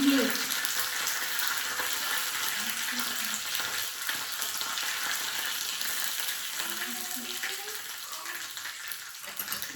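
Continuous crackling sizzle of a spice tempering frying in hot oil, with fresh coriander added, close and steady, with a faint voice briefly underneath.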